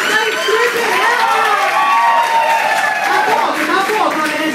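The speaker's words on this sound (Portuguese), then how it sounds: "Muito mais aplausos pra Stripperella!" A crowd at a subway event cheers and claps, with high shouts and whoops rising over continuous applause, lively and close throughout.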